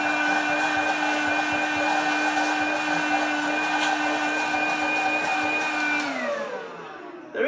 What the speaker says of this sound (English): I'm going to try suction on this from the handheld.